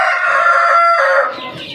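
Chickens calling loudly and close by, a steady sustained vocalization lasting nearly two seconds, from a flock kept by a keeper treating birds for snot and snoring respiratory illness.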